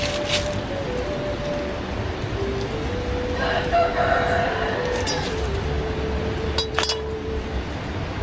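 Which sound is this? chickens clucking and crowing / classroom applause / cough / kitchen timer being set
chickens clucking and crowing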